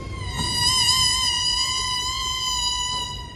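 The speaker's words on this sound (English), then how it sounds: "The next instrument we go to is the oboe." A beginning band student at a middle school winter concert plays a single sustained oboe note, steady and reedy with rich overtones and a slight waver, alone in a hall.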